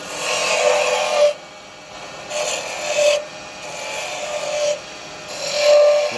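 Roughing gouge cutting into spinning wood on a lathe, a close, rasping scrape repeated in several passes with short pauses between them.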